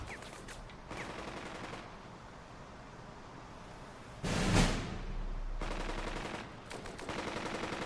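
Soldiers open fire in the war strategy game Burden of Command, set on a Sicilian beach, with sustained rattling volleys of rifle and machine-gun fire and a sharper burst near the middle.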